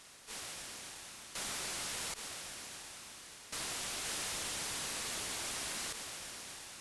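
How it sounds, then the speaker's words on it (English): White noise test signal played in bursts of steady broadband hiss, switching on and off abruptly several times with short gaps of quieter noise between segments, uniform and faint in level. "This matches the white noise reference."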